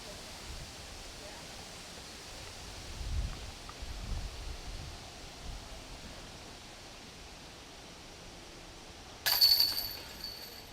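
Wind blows across an open disc golf course as a steady broad rush with low gusty buffeting against the microphone, and a brief sharp metallic clink near the end.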